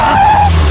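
Jeep braking hard to a sudden stop, a loud, close tire squeal and skid with a strained whining tone that lasts for a moment and then cuts off.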